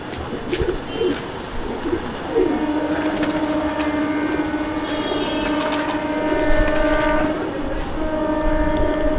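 Pigeons in a loft coo continuously nearby, low throaty calls layered together over a steady hum, with a thin sustained tone running through much of it.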